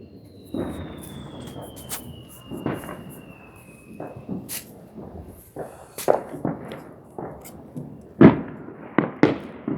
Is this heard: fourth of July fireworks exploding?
yes